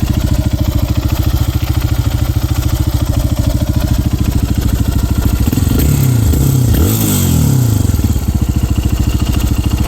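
A 2025 Lifan KPX250 motorcycle engine idles nearby with a loud, steady single-cylinder thump, then blips the throttle through a few quick revs before settling back to idle.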